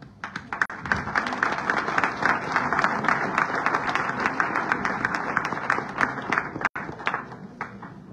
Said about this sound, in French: Nous pouvons à nouveau l'applaudir.